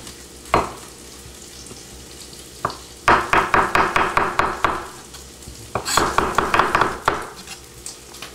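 Sausage frying in a pan over medium heat, with bursts of rapid clicking stirring and scraping against the pan over a low sizzle, loud and close, with no talking.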